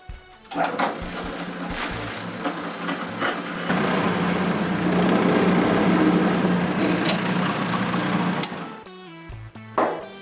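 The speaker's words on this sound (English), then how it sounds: "I mark where I'll drill the holes for the screws and drill them." An electric drill bores screw holes in wooden molding, starting with short bursts and then running in a sustained whirring drone for several seconds before stopping, loud and close.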